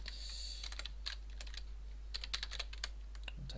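Rapid, uneven keystrokes on a computer keyboard while entering C# code, close and fairly quiet, with irregular clusters of clicks over a low steady hum.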